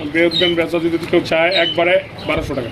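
Fancy racer pigeons coo and chirp in short bursts close by while a person talks over them.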